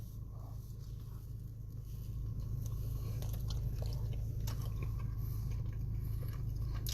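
Someone bites into and chews a Burger King pulled pork sandwich up close, with soft crunching and squishy, wet mouth sounds over a steady background hiss.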